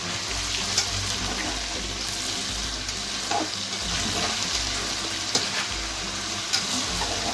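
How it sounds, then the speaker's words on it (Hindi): Chicken pieces frying in hot ghee for chicken nihari, a steady loud sizzle with bursts of crackle and occasional stirring scrapes, close and continuous throughout with no voices. "चिकन को पहले इस घी में अच्छे से फ्राई करना"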